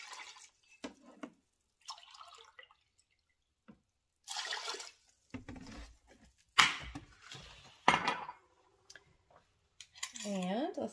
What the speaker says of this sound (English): I'm going in with 2 cups of vinegar